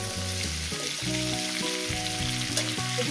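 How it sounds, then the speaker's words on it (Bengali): Potatoes fry in oil in a pan for a fish curry, a loud continuous close sizzle with a faint low hum beneath it. "মিনিমাম 6 মিনিট, 5-6 মিনিট ধরে আমি আলুটাকে ফ্রাই করে নেব।"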